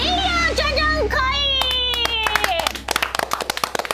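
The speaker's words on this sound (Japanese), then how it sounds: "すごい拍手が多いぞ。" Clapping breaks out after a stretch of cheerful voices and music at a Japanese players' panel discussion on the Digimon Story Time Stranger video game, a burst of many hands applauding fairly close, sharp and uneven.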